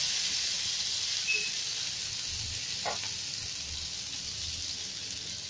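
Garlic paste sizzling in hot oil with mustard seeds in a home kitchen pan: a steady, soft frying hiss runs throughout, with a faint brief crackle near the middle.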